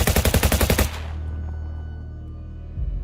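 A rapid burst of gunfire rattles out in a tight, loud volley, then a low rumbling tail hangs behind it before another heavy thump lands.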